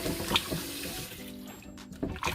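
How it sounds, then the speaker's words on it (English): Running water splashes and trickles steadily over raw chicken in a sink, close by, with wet spattering and gurgling. "I'm just gonna put some more warm water over it."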